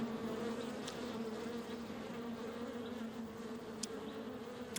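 Steady, low insect buzzing of many bees, continuous and close, with no voices over it.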